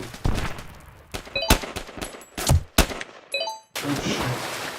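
Video game gunfire hits hard and close as sharp single shots and short bursts, some with metallic pings and clangs, while a game ambience drones steadily between the shots.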